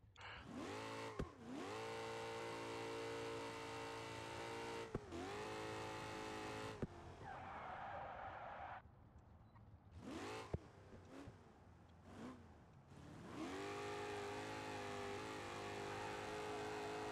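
A car in BeamNG.drive drifts with a steady, droning engine note that rises and falls in pitch, interrupted by short cuts and a brief quieter stretch before the revving resumes.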